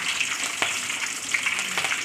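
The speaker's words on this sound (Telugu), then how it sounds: "ఫస్ట్ ఆయిల్ వేసుకొని ఆయిల్ హీట్ ఎక్కాక పోపు దినుసులు, దాని తర్వాత కరివేపాకు, కొంచెం పచ్చిమిర్చి" Mustard seeds and other tempering spices, curry leaves and green chillies fry in hot oil for tomato rice, giving a steady close sizzle with a few sharper crackles and no talking.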